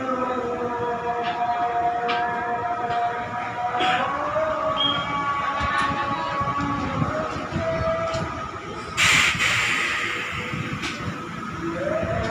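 A 1938 Dutch colonial-era locomotive train runs during a test run, giving a continuous rumbling roll with squealing, tonal metal whines and occasional clanks, fairly loud and close throughout.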